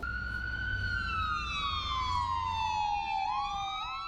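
An ambulance siren wails on a city street in Vancouver, a loud continuous tone sliding slowly downward in pitch as the vehicle passes close by, then shifting into a new rising cycle near the end.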